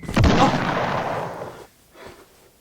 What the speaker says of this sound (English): I just dropped my skate deck when I fell on the ground